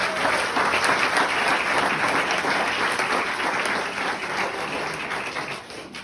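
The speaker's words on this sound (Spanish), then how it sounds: "Denle un aplauso a Dios esta mañana." A church congregation applauds during a Sunday morning service, steady dense clapping filling the room for several seconds and easing slightly near the end.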